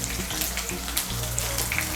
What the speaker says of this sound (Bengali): মাছগুলোকে আমি লাল করে ভেজে নেব।